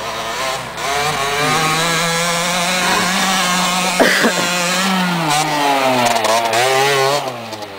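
A motorbike on road tyres is ridden across a grass track, its engine droning steadily near and loud, rising and falling in pitch as the throttle changes, with a brief knock midway and no voices.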